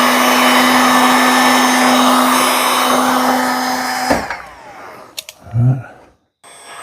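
A heat gun blows a steady, loud, close whooshing drone onto the windshield of a 2024 Indian Pursuit motorcycle, then cuts off, followed by brief handling clatter and a short vocal sound.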